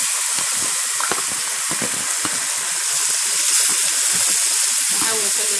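Onions hit hot fat in a pan, giving a loud, dense sizzle that holds steady throughout, with a few low knocks and bubbling pops underneath.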